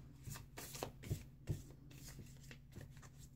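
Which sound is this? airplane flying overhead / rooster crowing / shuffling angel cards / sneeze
shuffling angel cards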